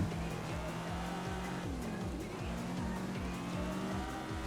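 A Toyota 86 and an all-wheel-drive Subaru race in the rain in the racing game Touge Shakai, with a steady, droning engine note and a regular pulsing throb running throughout at a moderate level.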